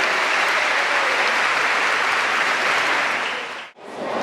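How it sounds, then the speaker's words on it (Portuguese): Congregation applause inside the Santo Antônio parish church during a festival celebration, loud sustained clapping from a full room that fades briefly near the end. "Uma salva de palmas a todos vocês que fazem parte desta igreja, paróquia Santo Antônio do Pai."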